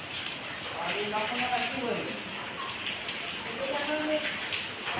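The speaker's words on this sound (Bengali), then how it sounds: "ভালো বৃষ্টি আরম্ভ হয়েছে।" Steady rain falls outside a home with a courtyard, a continuous even hiss of drops heard under a person talking.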